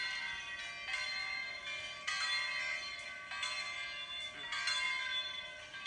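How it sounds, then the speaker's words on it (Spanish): Church bells of a Catholic church dating from 1904 ringing in repeated strikes about a second apart, each leaving a long metallic shimmer, moderately loud with no talk. "Ahí es el sonido de las campanas."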